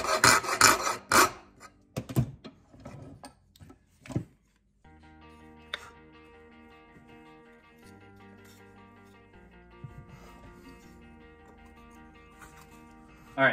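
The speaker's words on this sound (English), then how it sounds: "I'm just gonna use the shinto rasp quick." A Shinto rasp files a wooden axe handle in quick, rough scraping strokes, loud bursts at the start that thin out into fainter intermittent rubbing over a quiet background.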